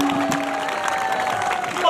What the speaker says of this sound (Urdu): اس کے لیے بھرپور تالیاں.